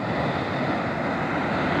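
Steady, broadband roar of sea surf and waves breaking offshore, with wind noise buffeting the microphone; continuous and fairly loud throughout, no voices.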